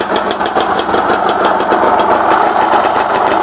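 A steady Yamaha TZR motorcycle engine hum runs continuously with a faint rhythmic ticking, fairly loud and close, with no voices.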